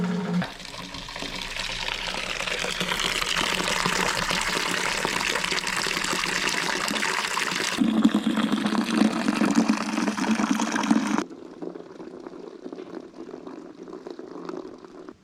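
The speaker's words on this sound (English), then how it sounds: "I'm gonna go ahead and get the wort into the fermenter" Beer wort for an all-grain Kölsch being pumped into a fermenter: a continuous loud rush of pouring liquid, close up. Its tone shifts partway through, then it drops to a quieter trickle near the end.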